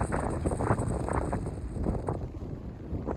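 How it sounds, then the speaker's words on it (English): Strong wind buffets the microphone in rough, gusting roars aboard a sailboat in the Vava'u Group, with a steady rushing noise and faint water or boat sounds underneath. "And it's still windy like crazy."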